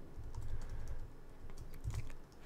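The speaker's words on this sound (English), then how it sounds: "I think I'm typing too fast for my own good." Rapid keystrokes on a computer keyboard while typing commands in an SSH session on a Linux server, clicking in quick irregular bursts with short pauses, close and moderately loud, no voices.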